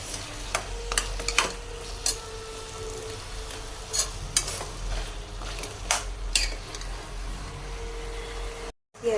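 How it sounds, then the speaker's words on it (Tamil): Partly boiled potatoes and green chilies sautéing in a pan for mutton curry, with soft stirring scrapes and light clinks of a spoon against the pot over a faint steady sizzle. "உருளைக்கிழங்கு நம்ம ஒரு காவாசி வேக வச்சுருக்கோம்ல, பச்சை மிளகாய் அது எல்லாம் சேர்த்து நல்லா வதக்கிக்கலாம்."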